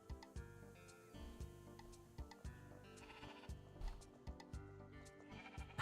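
Sheep in the video game Discounty give soft, repeated bleats alongside gentle in-game background sounds, with no one talking.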